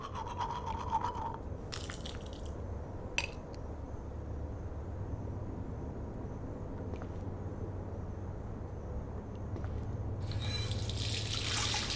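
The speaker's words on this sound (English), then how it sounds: "Feels so good to wash my face after all that chlorine." A bathroom sink tap runs steadily while a character washes her face in Life is Strange, a soft continuous water hiss with faint splashes and a few small clinks near the end.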